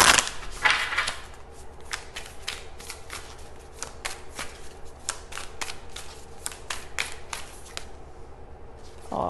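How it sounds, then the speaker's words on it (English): Rapid riffling of playing cards being shuffled, a dense flurry of crisp flicks repeating steadily, close and fairly quiet with no voices. "I'm gonna shuffle again."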